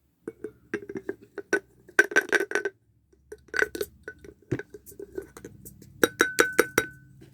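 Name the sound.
powder poured into a glass jar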